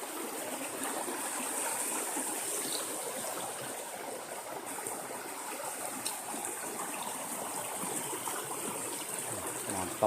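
A river stream rushes over large rocks in a steady, full, broadband wash of water that stays close and constant throughout, with no break or change.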